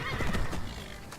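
Summoned horses in the Skyrim video game give a loud, close neigh and whinny, with a brief clip-clop of hooves beneath.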